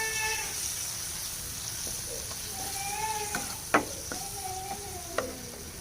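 Spices, crushed red chilli and achari gosht masala, are stirred into a chili curry in a pan, with a soft steady sizzle and occasional light scrapes and taps of the spoon, faint and close with no talking.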